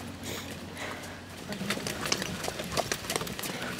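A carriage-driving horse walks in harness, hooves clip-clopping in a quiet, irregular series of sharp knocks, fairly close, with faint bird cooing in the background.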